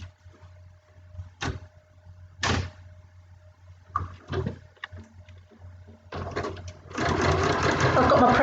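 A sewing machine stitches fabric for a quilted pincushion in short bursts with pauses between them, then settles into a longer run of steady stitching at the end. The motor whirs close and clear with no voices.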